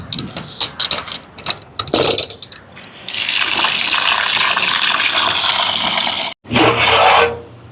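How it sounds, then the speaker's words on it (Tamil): Rice is washed in water: a few light clatters and knocks, then a loud, continuous rushing swish of water for about three seconds, a brief pause and another short gush. "வாங்க அரிசியை கழுவி எடுப்பேன்"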